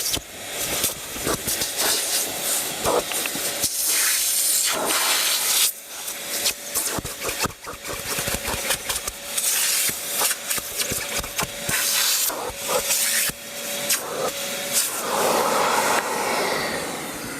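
A budget wet and dry vacuum cleaner roars with a loud, breathy suction hiss that surges and dips as the nozzle is dragged and lifted over fabric car seats.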